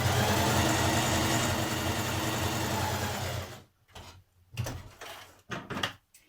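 A sewing machine stitches two parallel rows of gathering along a 1940s vintage-style blouse, running in a loud, steady whir for over three seconds, then stopping, followed by a few short, separate bursts of stitching.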